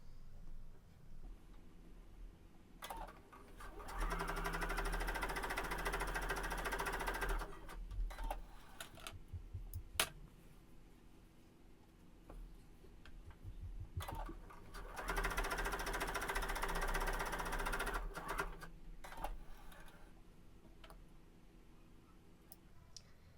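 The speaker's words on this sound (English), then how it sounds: "I'm going to sew 2 more rows" A sewing machine stitches rows of fabric for a gathered pocket, running in two long steady whirring passes with a short stop and scattered clicks between them.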